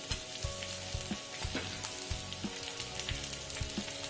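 Green peas with chopped green chilli and ginger frying in a pan on a gas stove, a crackling sizzle with repeated soft stirring scrapes and clinks, no talk.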